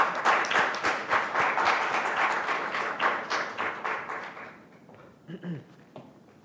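Audience applause at a youth speech contest welcoming a high-school student to the podium, loud and sustained clapping from a crowd for about four seconds, then fading out.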